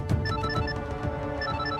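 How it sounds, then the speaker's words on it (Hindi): A telephone rings in a home, with repeated bright electronic ringtone pulses over a steady musical background, filling the short moment without any voices. "अरे ज़ारा आपा का फोन है।"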